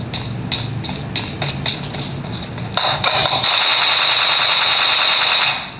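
Gunfire in a mobile shooting game played on a Galaxy S20 FE: a few spaced shots give way to dense continuous automatic fire with a bright metallic rattle, lasting several seconds before cutting off.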